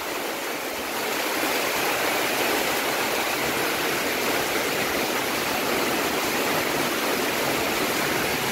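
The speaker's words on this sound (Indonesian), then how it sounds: "Masya Allah angin kencang, jadi campur hujan." Heavy daytime rain driven by strong wind gives a dense, steady broadband roar that rises slightly after the first second and holds without a break, with no voices.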